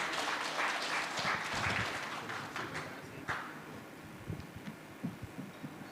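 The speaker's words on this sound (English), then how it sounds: "Give a round of applause to Pak Iman" Audience applause at an international conference on law, economics and governance: a burst of clapping from a room of people that gradually thins out into scattered claps and faint room noise.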